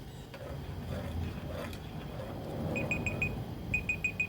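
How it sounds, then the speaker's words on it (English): Two quick groups of high electronic beeps, four in each, sound over a low background hum. "I'm sure you heard the beep."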